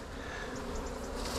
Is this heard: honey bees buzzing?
yes